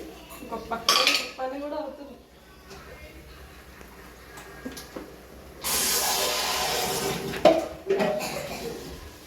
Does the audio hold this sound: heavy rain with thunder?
no